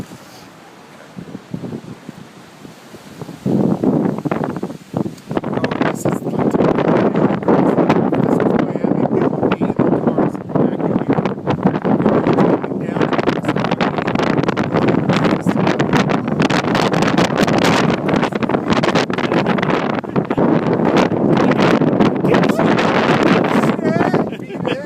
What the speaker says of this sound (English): Oh, I was waiting for that gust.